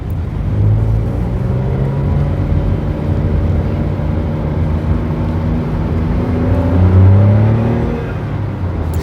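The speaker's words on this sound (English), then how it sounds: "There's our gear change. We're now into second." A Smart Roadster (W452) small sports car engine revs up steadily under acceleration, its pitch climbing, then dipping briefly at the change into second gear of its 6-speed gearbox before rising again, loud and close.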